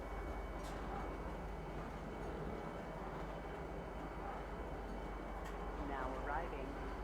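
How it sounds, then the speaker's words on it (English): Train ride into the city in Star Citizen, a low continuous rail rumble with a few faint airy whooshes and a soft rising whine near the end, while indistinct voices murmur in the background. "you go zooming down on this train down to it"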